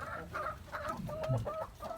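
Hens cluck in short, soft bursts in a backyard farm with turkeys, several close birds muttering over one another with a low farmyard murmur underneath.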